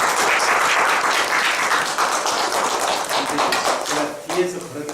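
Lecture-hall audience applauding as a professor walks in for a teaching workshop, dense clapping that gradually thins out, with a voice starting to speak over the last scattered claps.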